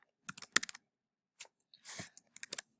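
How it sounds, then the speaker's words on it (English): Computer keyboard typing, heard up close as scattered bursts of quick clicks and taps with short pauses between them, alone in a quiet room. "I am typing out my answer."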